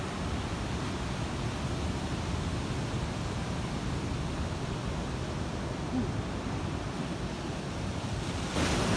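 Indian Ocean surf rolls onto Bentota beach in Sri Lanka, a steady loud wash of breaking waves mixed with wind buffeting the microphone, continuous throughout with no voices.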